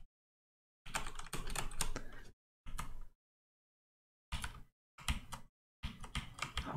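Close, clattering keystrokes on an old computer keyboard during play of a Windows 3.1 game, arriving in five separate bursts of rapid typing with silent gaps between them.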